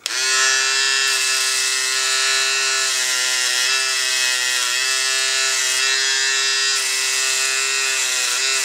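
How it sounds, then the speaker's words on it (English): Electric hair clippers cutting a fade against the grain, a loud, steady, high-pitched motor whine with a strong tonal buzz that shifts slightly in pitch as the blades move through hair, close and continuous without talk. "we're going to shave very slowly against the grain"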